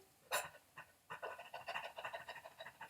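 A dog pants in quick, breathy bursts close by, starting with one loud huff and then settling into a steady rhythmic run of short pants.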